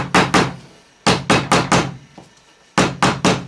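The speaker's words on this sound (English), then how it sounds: "Give them a tap with a hammer." Hammer tapping half-inch staples into upholstery, a series of sharp, loud close knocks in bursts of two, four and three with short pauses between, no voices.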